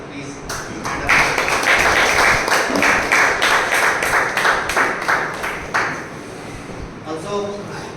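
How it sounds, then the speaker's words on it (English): Audience at a Toastmasters club meeting giving a big round of applause, loud close clapping that builds quickly, holds for several seconds and then tapers off into scattered claps. "please have a big round of applause for him"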